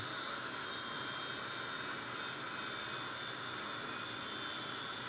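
An aircraft engine drones steadily and evenly in a flight simulator game as the plane descends to land, a constant hum with no speech over it.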